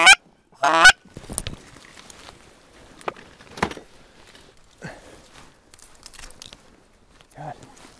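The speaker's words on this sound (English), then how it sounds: "I think I heard a goose" A goose honks loudly twice close by at the start, followed by scattered rustling and footsteps outdoors on public land during a duck hunt, with a few short voices.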